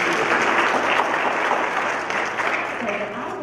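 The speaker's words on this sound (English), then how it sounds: "let's give him another round of applause" Sustained audience applause at a school gathering with students, dense steady clapping filling the room for a few seconds, fading slightly toward the end.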